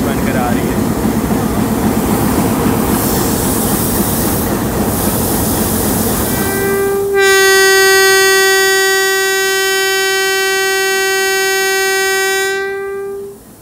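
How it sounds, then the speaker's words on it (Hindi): Hitachi locomotive hauling the Millat Express arrives at Mandi Bahauddin railway station in Pakistan, first as steady rolling rumble under distant crowd noise, then a loud, sustained multi-tone horn blast lasting about six seconds before cutting off. "ज़िंदगी में पहली दफ़ा मैंने किसी हिटाची लोकोमोटिव का इतना हिला देने वाला विसल सुने।"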